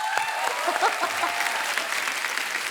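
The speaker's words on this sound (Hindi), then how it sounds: "जोरदार ताली हो जाए।" Studio audience applause on a Hindi comedy show, steady dense clapping with a crowd murmur, filling the whole stretch at a fairly close level, with faint voices and a brief tone mixed in.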